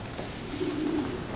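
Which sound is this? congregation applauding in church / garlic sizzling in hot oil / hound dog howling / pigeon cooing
pigeon cooing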